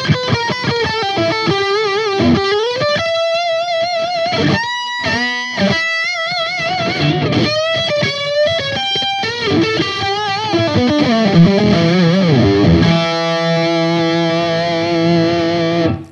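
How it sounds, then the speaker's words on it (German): Electric guitar played through a Diezel BigMax amplifier on its high input with heavy distortion, a loud sustained run of chords and single notes with bends and pauses, then a long ringing held chord, close and without talk. "Und dann gehen wir jetzt mal gleich mit den High-Eingang mit mehr Verzerrung."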